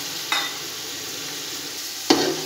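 A small splash of water hits hot oil and spices frying for Sindhi pulao, giving a steady sizzle with two brief sharp bursts as the pan is stirred.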